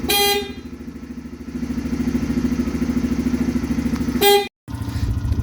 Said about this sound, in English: Check the horn.